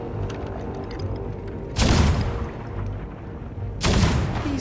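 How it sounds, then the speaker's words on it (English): Two heavy ship cannon booms in Sea of Thieves go off a couple of seconds apart, each a loud blast with a rumbling tail over a steady game background. "These new cannons are great!"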